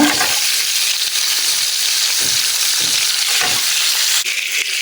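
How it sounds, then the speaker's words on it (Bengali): An egg fries in hot oil with a little turmeric powder, giving a loud, constant close sizzle with occasional soft scrapes and clinks from the pan. "এখানে আমি ডিমটা দিয়ে দিচ্ছি"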